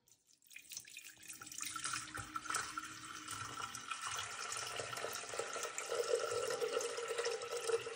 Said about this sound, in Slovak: Otvorte nádobu a nalejte do nej 1000 g vody.